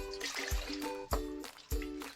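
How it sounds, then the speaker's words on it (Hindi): Water poured from a bowl into a pan to make sugar syrup, a trickling liquid sound with a few soft knocks spaced through it, close by and moderately quiet. "तो 1 कटोरी सूजी के लिए यहाँ पे हम 2 कटोरी पानी डाल देते हैं चाशनी के लिए"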